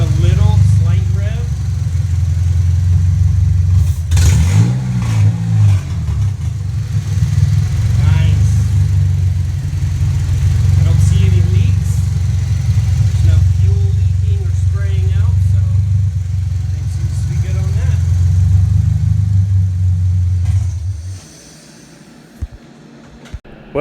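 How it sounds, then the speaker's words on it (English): A Honda K24 engine swapped into an EM2 car runs with an open downpipe exhaust, a loud, steady, deep idle with a brief rev partway through, then cuts off near the end; voices talk faintly underneath. "It's kind of loud right now because it's just open downpipe"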